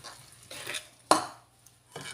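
Rice flour and maida are stirred into hot jaggery syrup for unniyappam batter, giving a few soft scraping strokes and one sharp utensil knock against the bowl in a quiet kitchen.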